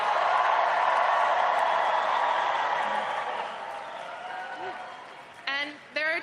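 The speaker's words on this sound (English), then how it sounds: "giving Zohran, our friend, a round of applause." A crowd at an election-night campaign headquarters in New York City claps steadily in broad applause that gradually fades, and a voice then begins speaking over the tail end.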